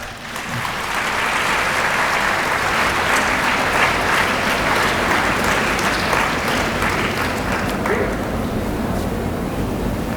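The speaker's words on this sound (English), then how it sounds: "Let's welcome him with a big round of applause." A large audience at a college event breaks into loud, dense applause welcoming a speaker, a steady roar of many hands lasting the full ten seconds.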